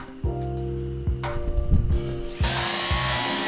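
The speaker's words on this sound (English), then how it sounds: "Drill warning." Power drill mounting a plate in the train game Derail Valley, with several bursts of high whining drilling that end in one long, loud run.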